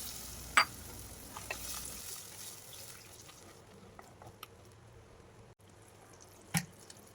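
Turmeric and chili powder fry in a pan for a Nellore fish curry, giving a faint, soft sizzle that fades after a few seconds. A couple of brief clinks sound, and nobody speaks.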